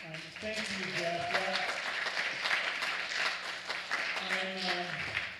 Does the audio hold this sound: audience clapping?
yes